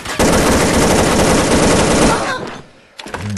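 Rapid automatic gunfire in the online shooter WolfTeam, a loud dense burst of shots lasting about two seconds before cutting off, then a brief quieter game sound.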